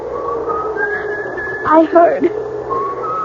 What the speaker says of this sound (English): then I heard someone whistling